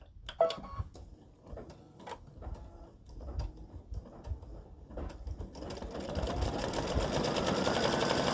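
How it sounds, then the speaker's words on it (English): An embroidery machine stitches a spider design in black thread, starting with scattered mechanical ticks and clacks, then settling into a steady, dense whirring rattle up close. "So I've put the black thread back in, and it's going to stitch the spider."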